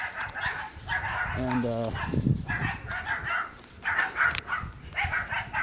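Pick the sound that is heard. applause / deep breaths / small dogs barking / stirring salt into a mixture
small dogs barking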